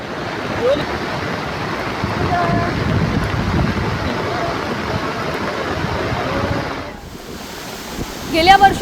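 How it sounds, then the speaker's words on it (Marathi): Dahel waterfall on the Maharashtra–Gujarat border in flood after heavy rain, a dense, steady roar of rushing water that holds loud and unbroken before dropping away near the end, with a brief higher noise at the close. "दहेल धबधब्यांचं रौद्र रूप कॅमेऱ्यात टिपण्यात आलंय"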